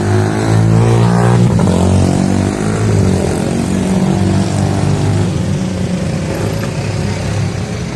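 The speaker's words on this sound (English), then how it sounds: "Here comes another bus." Bus passing in street traffic in San Gil, Colombia, a loud, steady low engine drone with rising and falling rumble that fills the whole clip, close by and without talk.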